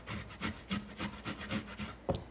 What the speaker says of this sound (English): I just grate it on that small piece that we used before